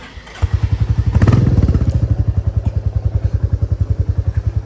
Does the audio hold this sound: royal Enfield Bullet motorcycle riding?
yes